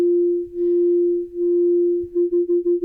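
A steady synthesizer tone that swells and dips in volume, slow pulses at first, then quicker regular wobbles toward the end.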